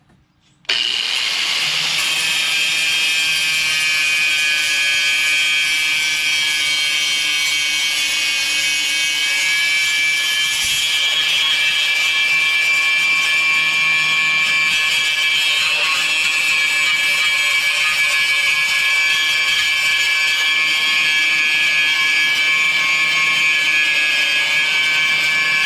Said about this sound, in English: I'm going to be using my new Porter cable angle grinder